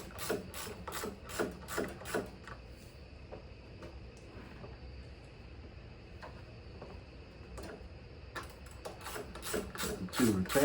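A wrench ratchets carburetor retaining nuts down onto an intake manifold, with bursts of quick clicking at the start and end and quieter mechanical handling in between, close by.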